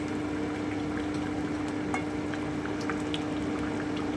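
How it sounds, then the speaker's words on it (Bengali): Chicken and potatoes simmer in water in a covered pot over medium heat, a steady low bubbling hiss with faint scattered pops, continuous and close, no voices. "এই জলে কিন্তু সেদ্ধ হবে চিকেনটা আলুটা"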